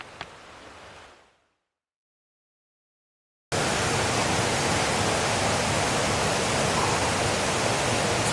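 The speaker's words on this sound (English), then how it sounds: "There's a whole ass waterfall like 15 yards to my left." A waterfall near a river by an abandoned mill gives a steady, loud broadband roar that cuts in suddenly after a short silence and fills the rest of the stretch.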